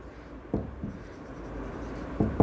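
Marker or chalk writing on a classroom board, a few short scratchy strokes spaced apart, the last ones closer together, close and moderately loud with no speech.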